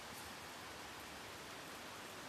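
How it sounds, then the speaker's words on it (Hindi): Rain falls outside during a storm, a steady, even hiss that sits quietly in the background without any voices or distinct drops. "बाहर हो रही है बारिश और बिजली भी झिम झिम झिम झिम हो रही है दोस्तों।"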